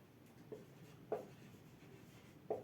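A pen or marker writing on a board during a chemistry lesson makes a few faint, short squeaky strokes, spaced apart over quiet room noise.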